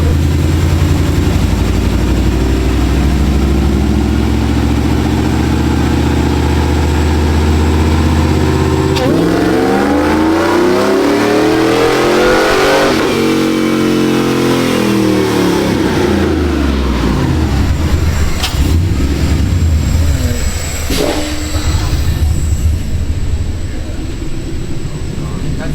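Supercharged 5.3-litre Chevrolet Silverado V8 on a dyno during a full pull: a loud, steady roar that climbs in pitch, peaks and winds back down, with a supercharger whine over it and voices talking underneath.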